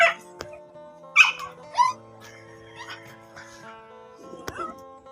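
A dog yips and whimpers in short, high bursts, with a few quieter whines between them, while people talk softly nearby.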